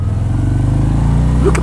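Close, loud engine note from a 2019 Harley-Davidson FXDR 114 motorcycle: a deep, steady throbbing V-twin rumble that rises slightly in pitch near the end, with no talking.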